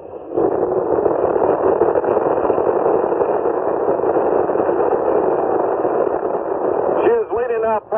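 Saturn V rocket lifting off for Apollo 15, heard from about three miles away as a steady, heavy rumbling roar that fills the whole stretch, thinned like a broadcast recording, with brief tonal bursts near the end.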